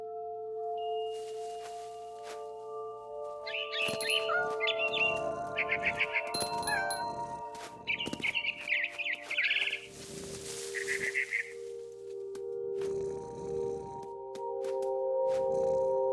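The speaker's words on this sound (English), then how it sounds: "Then I heard chirping outside my window. It was a barn swallow going back to her nest." A barn swallow in What Remains of Edith Finch chirps in several fast, bright twittering bursts through the middle, fairly close and clear, over a sustained low hum, with a few soft taps between calls.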